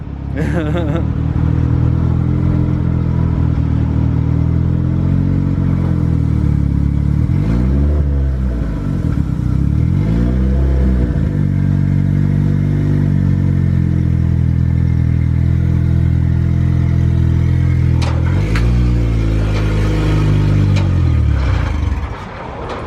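An engine revs up and down repeatedly in close, loud surges over a steady idle while a vehicle is being loaded, with a few rattling clatters.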